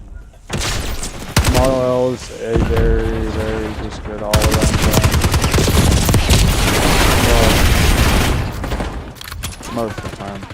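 Rapid gunfire from a video game shooter, with bursts of automatic fire and sharp shots crackling almost nonstop, mixed with game sound effects and the player talking over the action.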